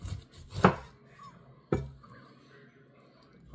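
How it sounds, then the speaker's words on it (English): Two separate cuts from a knife going through a homegrown pineapple, a sharp crunchy thunk followed a second later by another, close up, with quiet room sound between. "I'm gonna go ahead and start slicing up my pineapple here, y'all."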